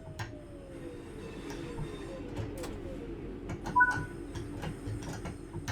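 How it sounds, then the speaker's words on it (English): Train braking to a stop in Train Sim World 5, heard as steady low rumbling with a long descending squeal and scattered cab clicks and ticks, no talking. "Bring the train to a stop by applying some brake using the power."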